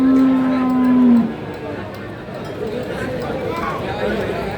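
At a busy cattle market in Tuban, East Java, a cow lets out a long, loud low moo that fades after about a second. A steady crowd murmur and the noise of other livestock continue underneath.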